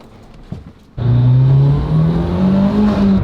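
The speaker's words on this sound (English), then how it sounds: "Yes, this car is loud" A loud Mitsubishi Evo engine bursts to life after a brief quiet moment, then holds a strong, droning idle with a steady low rumble and slight pitch wavering, close and dominant.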